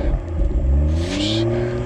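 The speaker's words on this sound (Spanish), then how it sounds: "Este escape es opcional. Vamos a escucharlo." A 2022 BMW Z4 M40i with the optional M Sport exhaust revs, its engine note rising steadily in pitch with a raspy roar up close and no talk.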